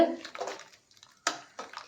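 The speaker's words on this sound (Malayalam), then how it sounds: "ഇനി നമുക്ക് നമ്മുടെ കോവയ്ക്ക ഇതിലേക്ക് തട്ടി കൊടുക്കാം" A couple of splashy plops and sloshes as pieces of ivy gourd drop into a pot of boiling water, with short pauses between the bursts.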